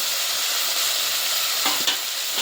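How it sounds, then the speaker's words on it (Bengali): Salt, turmeric and chili fry in hot oil in a pan for a shrimp and Malabar spinach dish, giving a loud, steady sizzle, with a couple of brief stirring scrapes near the end. "লবণ, হলুদ, মরিচ আগে একটু ভাজি করে নিচ্ছি।"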